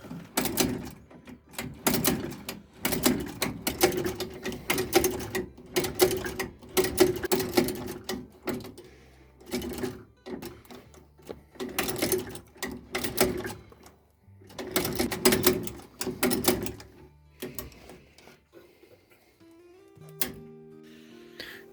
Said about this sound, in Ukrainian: І далі починаємо шити